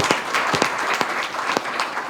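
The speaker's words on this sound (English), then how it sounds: "a round of applause for my panelists." Conference audience applauds panelists at a business discussion, a brief burst of clapping with a few distinct, louder nearby claps standing out against the general patter of the room.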